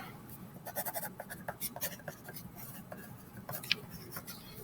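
A pen or marker writes a name on paper for a coloured-in picture, with soft scratchy strokes in short bursts, faint and close, under a low room hum.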